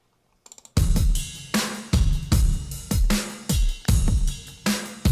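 A drum kit produced in Logic plays a punchy indie pop rock groove, with heavy kicks and snare hits and bright cymbals, after a few quick clicks at the start.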